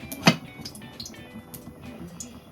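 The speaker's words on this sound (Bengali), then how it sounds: "এখন আমি এটা ঢাকনা দিয়ে রাখবো" A lid set on a pot of bean-seed dal makes one sharp metallic clink near the start, followed by quiet kitchen background.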